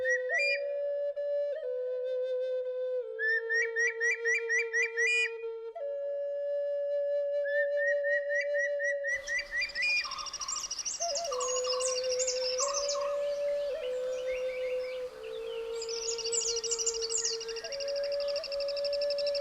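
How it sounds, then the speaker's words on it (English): A Malabar whistling thrush calls in the Western Ghats forest with clear, rising and falling whistled phrases, repeated and fairly close, over a steady backdrop of other birdsong. "A Malabar whistling thrush trying to look around from a better vantage"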